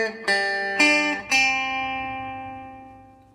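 Acoustic guitar picks three clear single notes of the opening of Happy Birthday, each ringing with a bright attack and sustaining into a long, slowly fading decay, close and alone.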